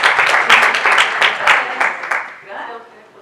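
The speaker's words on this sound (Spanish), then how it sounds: "pedirles un aplauso a nuestras invitadas que han venido" An audience claps for invited guests at a university film forum, a dense burst of applause that peaks early and then thins out and fades toward the end.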